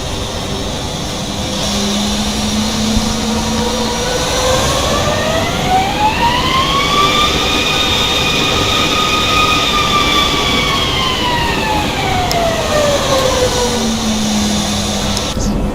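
A Boeing 737 MAX 8 jet engine in the X-Plane 11 flight simulator spools up from a low rumble into a loud rising whine, holds steady, then winds back down over a constant roar.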